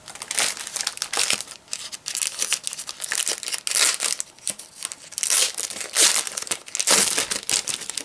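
Plastic packaging on a Pokeball-style Pokemon card binder crinkles and rustles loudly and steadily as it is torn open and pulled off, close up and uninterrupted for several seconds.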